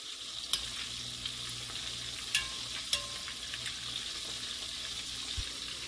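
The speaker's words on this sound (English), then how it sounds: "We're going to fry our lobster meat until it is golden brown." Steady hiss of lobster meat frying in hot oil, with occasional sharp pops and crackles over a continuous sizzle.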